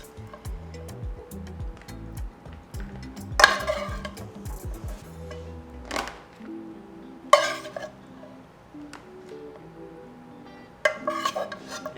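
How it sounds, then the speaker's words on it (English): Teriyaki stir fry cooking in a pan, with intermittent clanks and scrapes of utensils against the pan over a faint sizzle, some sharper metallic hits standing out, close and without talk. "This is gonna be the teriyaki stir fry."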